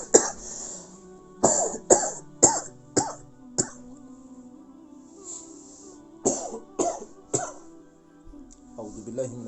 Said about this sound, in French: j'ai une petite toux là